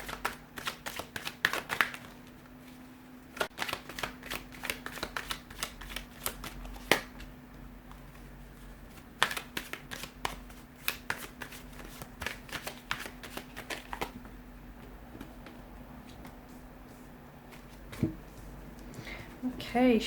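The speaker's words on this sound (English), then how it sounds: "we'll go ahead and give the cards a shuffle here" Tarot cards being shuffled in quick, crisp bursts of riffling and flicking, close and fairly quiet, with pauses between runs and a faint steady hum in the background.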